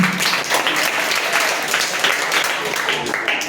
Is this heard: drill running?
no